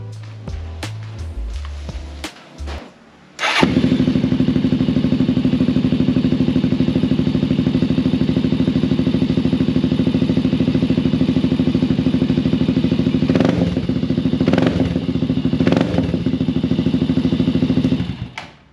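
A Cafe400 motorcycle with an open pipe exhaust, loud and close: a few sharp clattering thumps, then the engine fires into a steady raspy idle, with several quick throttle blips toward the end.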